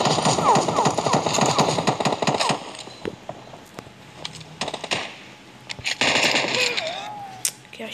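Video game gunfire in PUBG, with rapid bursts of close automatic shots followed by scattered single shots and another loud burst, and a voice speaking briefly among the shooting.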